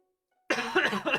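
A short burst of harsh, close coughing, several rapid hacks in a row after a moment of silence.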